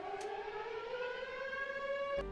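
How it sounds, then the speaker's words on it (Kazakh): A civil defense siren wails across a fog-covered city in a film, one long steady rising tone with strong harmonics that cuts off abruptly near the end. "Кейін бүкіл қалада сиренаның дауысы шығады."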